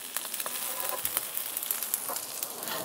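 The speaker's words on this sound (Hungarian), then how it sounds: "Vajat karamellizáltunk, amiből pillanatok alatt édes ízű barna vaj lett." Butter browns and sizzles on a hot iron plate while cooking smoked trout with small boiled potatoes and fresh thyme, a steady crackling hiss broken by scattered sharper pops and spits, close and alone without talk.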